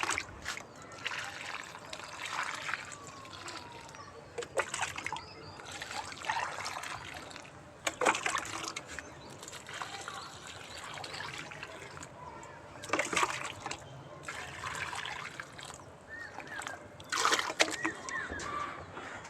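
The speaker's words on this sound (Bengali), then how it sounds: "এবার গোড়ায় একটু জল দিয়ে দেব এবার জল দিয়ে দেবো" Water poured at the base of chili plants in a rooftop garden trickles and splashes in uneven spurts, close and fairly soft, with faint background noise throughout.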